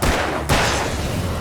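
A single loud gunshot rings out in the video game Alan Wake Remastered, a sharp close crack partway through, followed by a roaring sustained rumble under dense game ambience.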